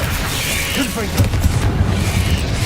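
A Confringo fire spell blasts in Hogwarts Legacy, a rumbling boom with bursty pops swelling about halfway through, while a voice speaks over the action.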